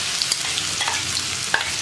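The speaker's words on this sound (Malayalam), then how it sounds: "നമുക്ക് ഇതിലേക്ക് ക്രഷ് ചെയ്ത് വെച്ചിരിക്കുന്ന ഉള്ളി ചേർക്കാം." Crushed onion dropped into hot coconut oil with popped mustard seeds, frying with a steady close sizzle and a few sharp crackles and stirring scrapes, no voices.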